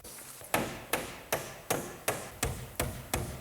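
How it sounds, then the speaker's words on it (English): A hammer driving a nail into the edge of wall sheathing on a garage build, eight sharp, evenly spaced close strikes, each ringing briefly, with no talk. "I'm going to take this nail and tack it into the edge of the sheathing like this"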